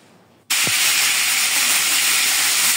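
Food-coloured peeled potatoes dropped into hot oil break into a loud, sudden sizzle that holds steady and close, a broad hiss filling the clip after a brief quiet start.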